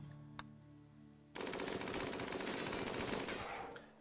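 Automated gun turrets in a video game open fire in a sudden, sustained burst of rapid machine-gun shots, loud and dense, after a quieter stretch with a single hit, then tailing off.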